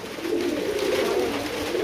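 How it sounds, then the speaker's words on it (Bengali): Uzbek tumbler pigeons, an American Uzbek tumbler line, cooing in a steady low murmur that fills the short clip at moderate loudness, with no voices over it. "এটা হলো উজবেক টামলার পিজন, আমেরিকান উজবেক টামলার।"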